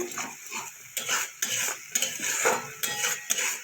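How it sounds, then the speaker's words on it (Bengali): A spoon stirs long beans and potatoes in a metal pan, giving repeated clanking scrapes in an irregular rhythm, loud and close, with no speech. "এবার এটা বেশ কিছুক্ষণ নাড়াচাড়া করে"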